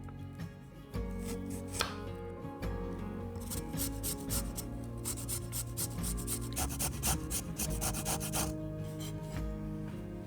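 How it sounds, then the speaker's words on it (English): Lime zest is rasped on a grater in a home kitchen, giving repeated scratchy strokes in an uneven rhythm, close and fairly loud, with no talking. "So next we're gonna zest 1 lime."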